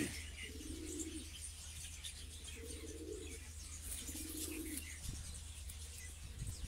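Pigeon cooing nearby in a loft, three rolling coos at an even pace over a steady background hum, with faint chirps from other birds.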